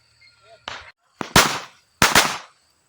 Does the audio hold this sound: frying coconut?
no